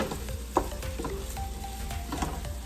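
Garlic fried rice mixed with egg yolks and kale cooks in a pan, a low steady sizzle punctuated by a few stirring scrapes and knocks of a utensil; close and moderately quiet, without talk.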